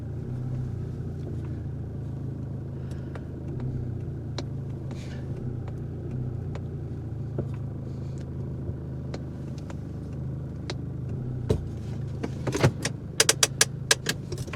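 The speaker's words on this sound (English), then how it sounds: "Diesel's too expensive to be letting that bad boy run." A diesel car engine idles with a low, steady rumble, joined by scattered clicks and small rattles that grow sharper and more frequent near the end.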